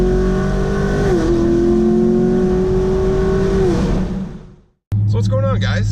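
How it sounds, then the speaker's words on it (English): A cammed 2017 Chevrolet Camaro SS (sixth generation) drives past close up, its V8 holding a steady loud drone that shifts pitch midway, then fades out; after a brief silence a voice begins speaking. "it is time to take a drive for the first time in my cammed 6th gen Camaro"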